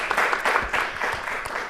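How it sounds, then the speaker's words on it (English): Audience applause at a writing and producing workshop, a steady broadband patter of many hands clapping for under two seconds, moderately loud and continuous. "let's give a round of applause"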